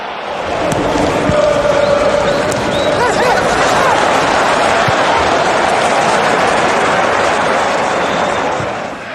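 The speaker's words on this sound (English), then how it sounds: "Crowd applauding the drop of the shoulder." A football stadium crowd applauds and murmurs after a skilful drop of the shoulder, a dense, steady wash of clapping and hubbub filling the whole stretch at full loudness.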